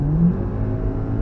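A car accelerating on the Nürburgring Nordschleife in the rain, a steady mid-pitched engine drone and whir heard from onboard, loud and continuous.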